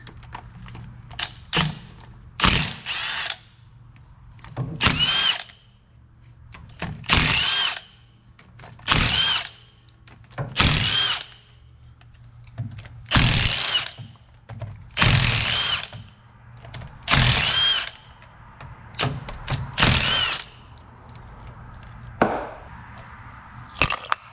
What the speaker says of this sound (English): for the rear differential gasket, we can start removing our 1/2-inch bolts